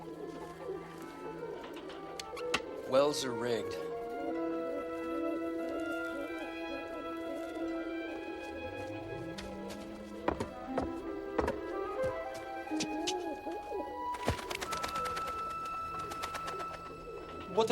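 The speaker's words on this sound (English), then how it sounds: "Grab a pigeon. Blue cage." Pigeons coo in cages at a desert market, soft repeated warbling calls near and far, mixed with knocks, taps and rustling; someone speaks briefly.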